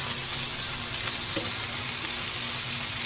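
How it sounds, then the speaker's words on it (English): Bacon-wrapped filet mignon sizzles on a Weber kettle grill, a steady close crackle and hiss that carries on without a break. "In about a minute, just going to keep rotating it. We get that bacon nice, crisped up on the outside."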